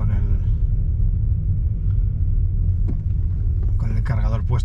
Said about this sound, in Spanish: El motor va suave, un poco ruidoso.